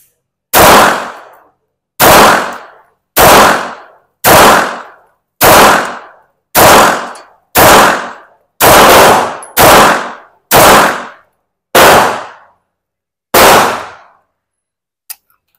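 A Springfield Armory Echelon pistol fired at a range: eleven loud, sharp gunshots in a steady cadence about a second or so apart, each with a quick decaying echo, followed by a faint metallic click.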